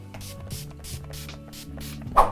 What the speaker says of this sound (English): we're going to go in with the Urban Decay All Nighter Setting Spray and just set this